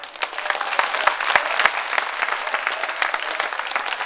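A full audience gives a standing ovation to folk minstrel Ali Kızıltuğ, dense steady clapping filling the room at a constant loud level from start to finish.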